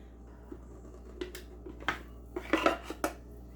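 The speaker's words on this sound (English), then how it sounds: "now we're going to go ahead and dump the ball out onto parchment." Pie crust dough is tipped out of a blender jar onto parchment, giving a handful of light clinks, knocks and scrapes of the container and blade, faint and close, spread over a few seconds.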